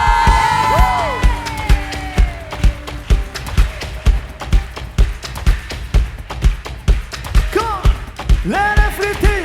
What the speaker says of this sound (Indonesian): berikan tepuk tanganmu sorak-sorai bagi Tuhan yang dahsyat